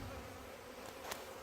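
Large honeybee swarm clustered in the open, a faint, continuous buzzing hum from many bees, steady and low in level for a brief moment with no talk.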